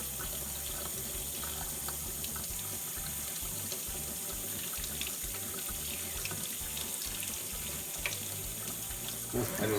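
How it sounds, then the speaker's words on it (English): A kitchen faucet runs at full blast with hot water, a loud, steady rushing splash into the sink that holds constant throughout, with no talking. "That's full blast hot water."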